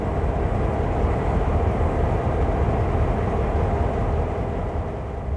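A train in the Train Sim World video game rumbles along, a steady low mechanical drone with rail noise holding at an even level throughout, with no talk over it.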